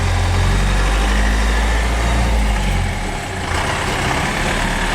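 A Toyota 4x4 with a Cummins 4BT diesel engine roars loud and close as it works through the gears, a heavy low rumble that dips briefly at a shift before pulling on again.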